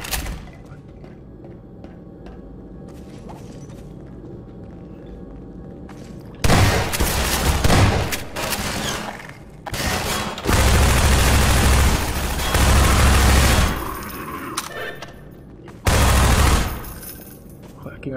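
Shotgun blasts in Half-Life 2, several loud booming bursts in quick clusters between quieter stretches of game ambience.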